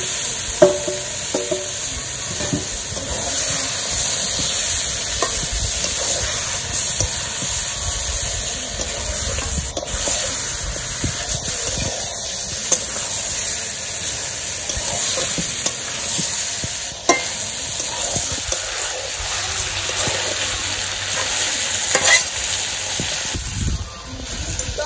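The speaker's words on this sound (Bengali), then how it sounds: "মাংসটা কষাইতে থাকি" Meat with onion, green chillies and cooked-down spices is sautéed and stirred in a pan in a village kitchen, a loud continuous sizzle and hiss with repeated scraping stirs throughout.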